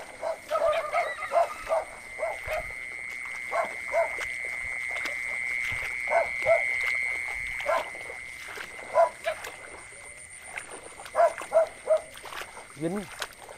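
Frogs call at night during a frog hunt by wading through wet ground, with repeated short croaks in irregular bursts over a constant insect drone, and a few faint voices now and then.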